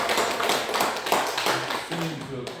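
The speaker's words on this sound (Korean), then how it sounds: "박수 한번." Audience at a Korean lecture on the Awakening of Faith in the Mahayana applauds, with dense, steady clapping from a room of people and a voice speaking over the last moments.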